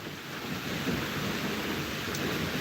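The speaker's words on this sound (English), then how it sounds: "So it's really raining over here. It's actually drizzling." Outdoor rain falling as a light drizzle, a soft continuous hiss and patter that stays fairly even and moderately faint throughout.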